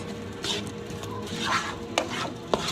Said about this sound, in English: we're gonna pour that in. And we're gonna mix it up really good.